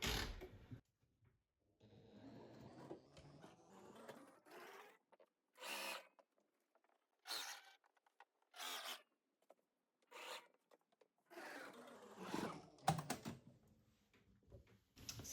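A sewing machine stitches a seam with a 3/16 inch allowance, faint bursts of whirring and rasping fabric handling coming in short, irregular spurts with quiet pauses between.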